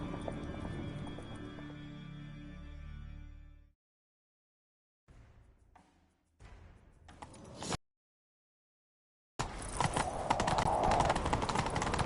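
In The Witcher 3 video game, hooves clatter in a galloping rhythm with a horse whinnying, then the sound cuts out, returns in short bursts, and comes back as a loud, dense rush.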